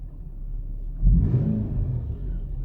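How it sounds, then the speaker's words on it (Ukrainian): An Infiniti M37 engine runs steadily at idle, a low even rumble with a brief swell in the middle. "але двигун працює рівно"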